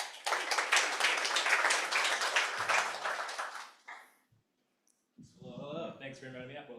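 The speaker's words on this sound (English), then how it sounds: "Give him a round of applause." An audience at an investment summit finale claps for a guest called up to the stage, a dense burst of applause lasting several seconds before fading out, followed by a brief pause and then someone speaking.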